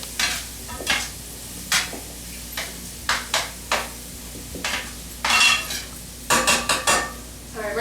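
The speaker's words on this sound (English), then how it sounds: "we're just going to keep stirring around so the garlic doesn't burn" Garlic is stirred in a pan, with a spoon repeatedly scraping and clinking against the metal in irregular strokes over a soft, constant sizzle.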